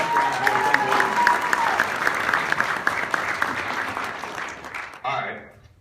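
Audience applause at a presentation event, a steady wash of many hands clapping with faint voices threaded through, swelling near the end before tapering off.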